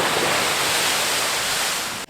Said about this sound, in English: as they go back out, they hit the oncoming waves, and it has these beautiful spouts of water, these beautiful crests of water